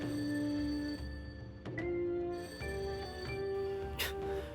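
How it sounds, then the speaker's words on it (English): An old-fashioned telephone ringtone from the video game Persona 5 Royal, a steady bell-like ringing with tonal chimes that shift pitch over several seconds, fairly loud and alone. "like, an imitation, old-timey phone ringtone"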